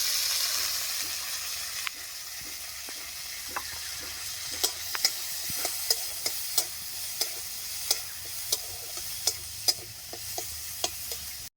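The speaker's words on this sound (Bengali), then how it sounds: "পেঁয়াজটা ভাজা ভাজা হয়ে আসছে" Chopped garlic and onion frying in hot oil for a small spiny eel fish curry, a steady sizzle with regular sharp ticks and pops from spatters, fairly close, no talking.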